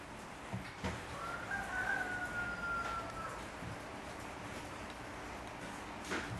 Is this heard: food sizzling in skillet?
no